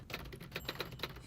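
Quick, irregular taps of typing on a keyboard patter along for a little over a second, fairly soft and close, with no voices over them.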